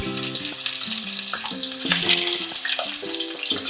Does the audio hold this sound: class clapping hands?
no